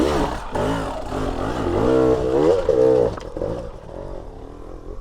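Dirt bike engine climbing a hard enduro line in second gear, its revving pitch rising and falling in repeated surges, close and loud, with no talk over it.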